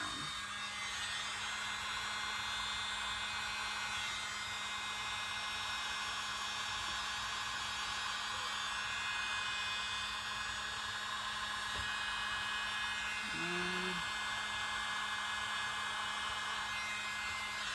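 A hair dryer blows steadily across freshly poured paint in a Dutch pour, a faint continuous whir with a low electrical hum and no pauses.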